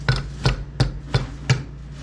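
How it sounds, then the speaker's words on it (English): A tiny hole is poked into an egg shell before boiling, heard as five sharp taps in an even, quick rhythm, close and distinct against a quiet background. "The secret method is you pop a tiny hole,"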